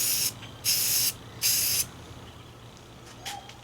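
Primer sealer is sprayed from a can onto the hood of a 1987 Toyota Hilux in three close, loud hissing bursts, each lasting about half a second, followed by quieter handling noise.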